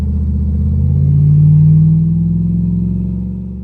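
A tuned diesel burnout truck revs hard in a loud, close, low rumbling roar that swells to a peak midway and then slowly eases off, with no voices over it.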